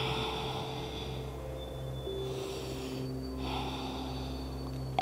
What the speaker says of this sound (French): On va prendre quelques grandes respirations ici.